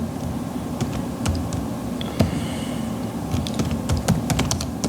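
Keys clatter on a computer keyboard while text is entered into an Excel spreadsheet, with irregular bursts of close keystrokes over a low room hum and no voices.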